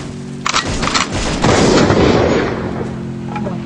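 M4A1 gunfire in the video game Free Fire: a few sharp shots, then a dense burst of rapid fire with a booming rumble that slowly fades, loud and close, with no talking.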